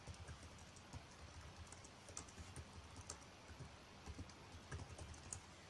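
Steady clicking of a computer keyboard as an article is typed, faint close keystrokes in an irregular rhythm with no talk.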